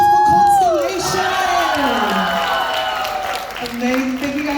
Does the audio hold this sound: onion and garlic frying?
no